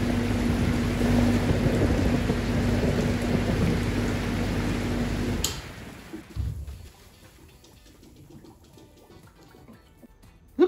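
Heavy rain roars loudly with rumbling thunder for about five seconds, then cuts off abruptly, leaving quieter scattered patter and a faint rumble.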